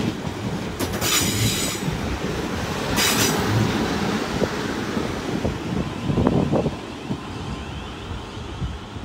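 A Class 450 train rolls through Clapham Junction on the South Western Main Line, a steady rumble of wheels with a couple of squeals and gusty wind noise over the microphone.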